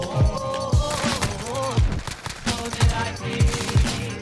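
A Grau rifle built as an SMG fires in the video game Warzone, with fast sustained bursts and punchy low thumps layered over game music, loud and close.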